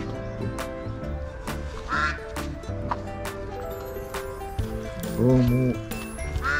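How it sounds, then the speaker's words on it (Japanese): Several ducks quacking loudly and repeatedly nearby at a campground during feeding, mixed with a person talking and occasional clattering knocks. "アヒルまで来た"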